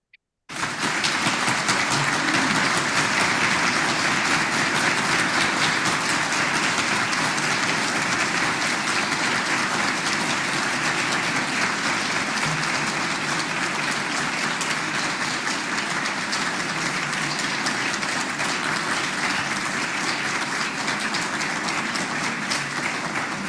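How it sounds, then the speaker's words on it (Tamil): An indoor audience at a meditation talk applauds steadily, a dense, continuous wash of many hands clapping that fills the whole stretch at even loudness with no speech. "நாங்கள் 30 வினாடிகள் நாங்கள் கைதட்டுவோம்"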